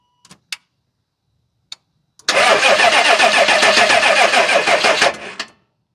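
A 2000 C5 Corvette engine cranking over on a portable jump starter with no battery, a few faint clicks followed by a loud, close, churning crank lasting about three seconds that then cuts off.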